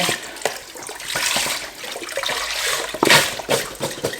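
Chicken broth is poured into a pot for a Thai red curry noodle soup, making a moderate, steady liquid splashing and gurgling with a few sharper splashes near the end and no speech.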